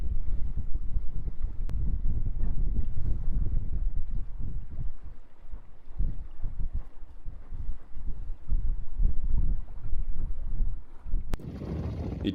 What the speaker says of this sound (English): Running on the mainsail only, downwind, approximately 4 knots.